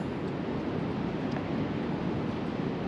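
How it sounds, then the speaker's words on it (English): Steady wind and rain at night high above Central Park in New York City, a constant broadband rush with heavy low buffeting and no clear gaps, loud and unbroken throughout. "It's very wet and windy out here"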